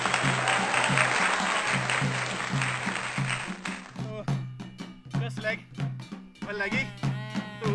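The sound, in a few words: audience applause for the poet Bahadur Singh Laspal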